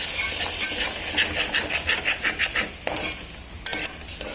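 Ground paste of coconut, fennel, onion, garlic and tomato sautéing in a pan for sundakkai gravy, a steady hiss and sizzle broken by rhythmic scraping stirs, close and moderately loud, with no talk.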